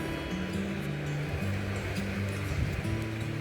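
Steady surf rolls and washes along the sandy beach at Caorle, Italy, on a sunny day, a continuous broad rush of waves with some wind noise on the microphone.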